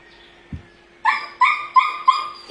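A dog barks four times in quick, even succession, close and loud, after a single soft thump.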